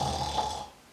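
A storyteller's voice imitates a grandfather snoring: one rough, rasping snore, close and fairly loud, fading away by the end of the second.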